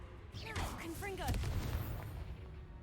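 A Confringo blasting spell explodes in Hogwarts Legacy during a fight with poachers, a sharp whooshing burst followed by a booming rumble, with a voice shouting the spell name just before it.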